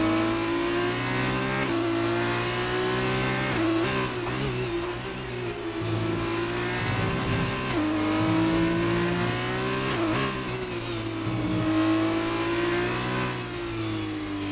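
An F2 race car engine screams through an onboard qualifying lap at Hungary in a racing game, revving hard and high. Pitch climbs and falls through repeated gear changes and braking, loud and close with no talk.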